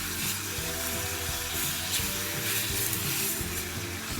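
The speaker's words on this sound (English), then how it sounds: "So just fry for a little while" Beef frying in a pan for an Anglo-Indian beef pepper fry, a steady, dense sizzle and hiss throughout, close and continuous, with faint clinks of stirring underneath.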